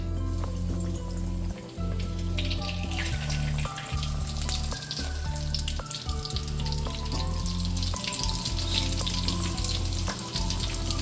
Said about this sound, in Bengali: প্রথমে তেলটাকে খুব ভালো করে গরম করে নিয়ে গ্যাসটাকে একদম মিডিয়ামে করে আমি চপগুলো ভেজেছি